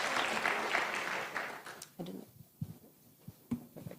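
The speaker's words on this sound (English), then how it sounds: "A round of applause for Jen." An audience at a Kenyan EdTech summit applauds speaker Jen, with a burst of clapping for about two seconds that fades into scattered claps and faint voices.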